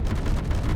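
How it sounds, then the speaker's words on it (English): Weapon fire in the space sandbox game Space Engineers, a rapid stream of muffled, rumbling shots that runs steadily through the brief moment at even loudness, with no talking. "What are you shooting at?"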